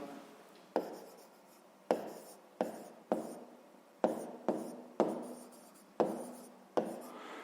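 Pen or chalk writing by hand during a fifth-grade maths exercise, a series of sharp strokes and taps at irregular intervals with scratchy rubbing between, close and fairly quiet.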